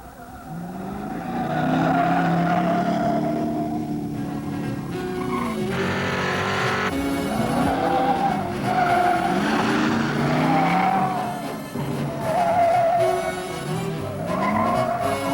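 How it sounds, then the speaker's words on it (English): A Mercury Cyclone GT with a standard 351 cubic inch V8 and two-barrel carburetor driven hard on a test track, engine revving loudly and steadily with rising and falling pitch, tires squealing through skids, no talk. "Our test car came with a standard 351 cubic inch V8, topped with a two-barrel carburetor."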